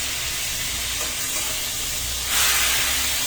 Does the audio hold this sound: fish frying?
yes